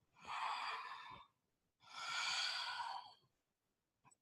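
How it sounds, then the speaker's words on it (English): Two long, soft exhalations during a yoga flow, each a breathy whoosh of about a second, separated by a quiet pause, with a tiny breath sound at the end. "breathing out."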